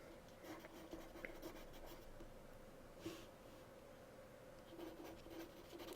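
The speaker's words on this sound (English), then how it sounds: "I don't think I've ever drawn Carnage before." Pencil or pen sketching Carnage on a small sketch card, soft faint scratching strokes close to the mic over a low steady hum, with no talking.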